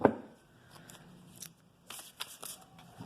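Tarot cards being shuffled by hand, a short run of soft riffling and papery slaps with brief crisp bursts, close and quiet, no talking.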